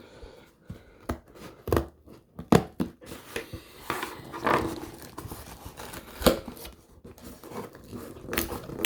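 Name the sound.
scissors cutting packaging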